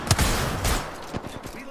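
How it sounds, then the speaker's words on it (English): Rapid bursts of gunfire from a battle royale video game crackle in quick succession, loud and close at first, then fading into scattered shots. "Shooting at me."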